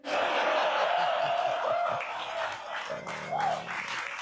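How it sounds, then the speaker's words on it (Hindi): An audience at a comedy show applauds the comedian, a steady wash of clapping and some cheering that stays loud throughout, with voices heard faintly under it. "देखो उसे कितनी तालियां मिल रही हैं"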